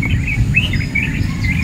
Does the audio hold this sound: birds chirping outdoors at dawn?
yes